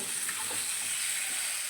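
Pointed gourd, potato and shrimp fry with spices in a pan, giving a steady, close hiss of sizzling oil with faint stirring scrapes.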